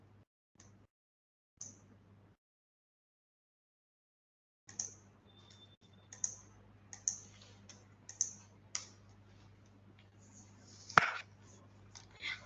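A command is typed on a computer keyboard as a sparse run of light, close key clicks with irregular pauses. One sharper tap lands near the end over a low hum.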